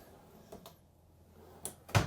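Drawers beneath the bathroom vanity of a 2023 KZ Durango Gold 391RKF fifth-wheel RV sliding and knocking shut, a few brief soft clicks followed by one louder close near the end, heard alone and close.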